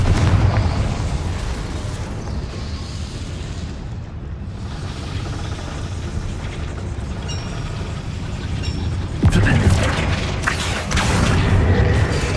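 Confringo fire spell in Hogwarts Legacy, a sustained rumbling blast with a dense roar that dips briefly midway, then flares again with a sharper crackling burst, loud and without speech.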